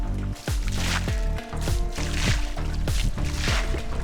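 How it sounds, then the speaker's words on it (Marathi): Water is splashed by hand from a lower rice paddy into an upper one in a Konkan village, a series of wet slaps and dribbling splashes repeating about every half second, close and fairly loud. "पाऊस नसल्यामुळे आम्हाला या खालच्या दयातून पाणी वरच्या दयात असं शिंपडावं लागत आहे"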